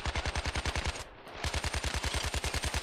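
Rapid automatic gunfire in the heist game Payday 2, a steady fast stream of loud close shots that pauses briefly for a fraction of a second, then resumes at the same pace.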